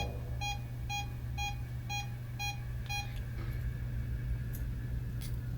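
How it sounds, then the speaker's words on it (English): An electronic device beeps six times in a steady, evenly spaced rhythm over a constant low engine hum, then stops. "We just got a couple of beeps."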